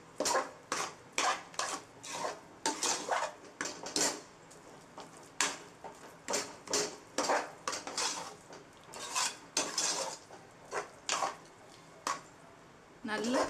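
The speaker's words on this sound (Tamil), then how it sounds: "சிம்மில் வச்சுட்டே கிளறணும்" Sweet pongal of rice and sugar being stirred in a pot over a low flame: a close run of rhythmic scraping and clacking from a ladle against the metal, with a few sticky squishes.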